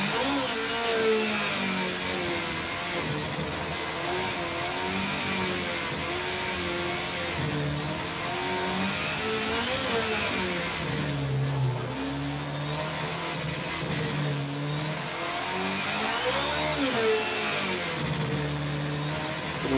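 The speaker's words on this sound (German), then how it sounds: "Mit einer Formkarre auf einer Rallycross-Strecke driften." A formula car drifts around a rallycross track in the racing game Project Cars 2, its engine whining and revving up and down continuously with rising and falling pitch over a steady roar.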